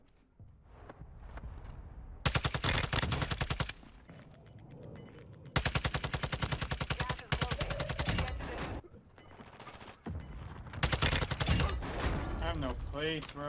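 FSS Hurricane submachine gun fire in the video game Warzone 2.0 comes in three loud, rapid automatic bursts. Someone talks between and over the shooting.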